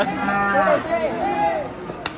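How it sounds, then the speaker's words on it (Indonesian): Large cattle being unloaded from a truck moo loudly and close by, giving a couple of long, drawn-out, wavering calls one after another. "Penurunan sapi juga."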